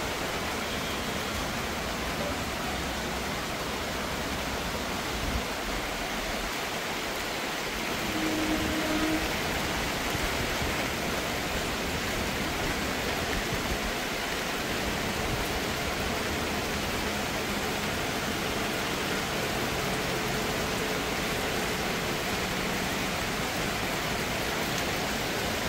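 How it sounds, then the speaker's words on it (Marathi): Heavy monsoon downpour falling on a village road, a dense unbroken hiss of rain that holds steady and loud with no voices. "जोरदार पाऊस आहे इथं।"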